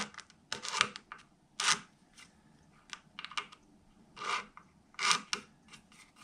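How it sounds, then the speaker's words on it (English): A razor blade scraping along the edges of a guitar fingerboard on an OM neck, heard as short, irregular rasping strokes, close and fairly quiet, with pauses between them. "I just like to scrape these edges of these fingerboard off"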